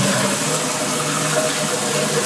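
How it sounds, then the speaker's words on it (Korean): Warm water gushes from a bathroom tap in a small rented room, a steady loud rushing stream with no talk over it. "따뜻한 물이 나오고 있어!"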